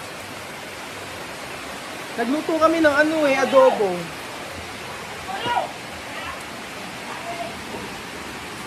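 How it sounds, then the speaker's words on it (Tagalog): Heavy rain roars as a steady, broad hiss throughout, and a person speaks over it for a few seconds in the middle before the downpour continues alone. "ang lakas ng ulan"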